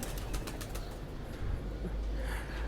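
Rampuri pigeons in a loft, soft cooing and faint wing movement against a low background rumble, quiet and close.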